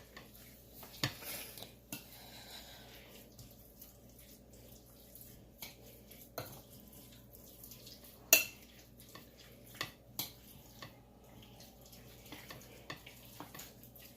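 Chicken and pasta being tossed with cornstarch in a pan yields faint scraping and rustling, broken by a few sharp clinks and knocks of utensils against cookware, quiet and close.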